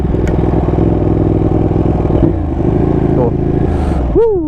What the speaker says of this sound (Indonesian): Suara mesinnya keluar, terus suara dari knalpotnya keluar.